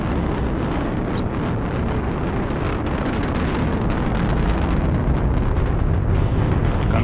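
An Atlas V rocket with an RD-180 engine climbing during the launch of a Cygnus cargo spacecraft, heard as a loud, dense, continuous roar that holds steady throughout.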